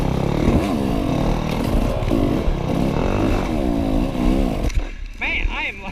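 A dirt bike riding a rooty trail in Ocala National Forest: a continuous loud engine drone with rising and falling revs runs under a rider's excited talking throughout.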